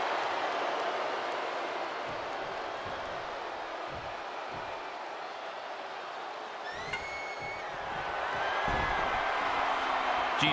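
A women's wrestling crowd roars in a broad, steady wash of cheering and noise from the arena stands, swelling slightly toward the end, with a few whistles cutting through.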